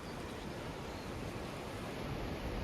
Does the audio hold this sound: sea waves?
yes